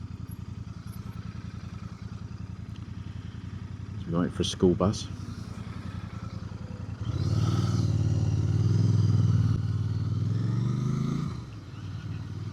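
A Royal Enfield Bear 650, a classic 650 twin, is ridden with a steady engine drone. It swells into a louder, sustained rev partway through before easing off. Someone speaks briefly over the engine early on.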